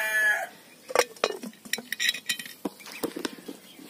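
A lid goes onto a cooking pot of boiling sweet potatoes in a farm kitchen, producing close, sharp metallic clinks and clatters with scattered taps and rattles, irregular and fairly faint, with no voices.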